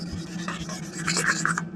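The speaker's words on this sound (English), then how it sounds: "Just while I'm sanding it," Sandpaper, starting with 220 grit, rubs back and forth over an old brick hammer in a quick series of close, soft rasping strokes lasting under two seconds.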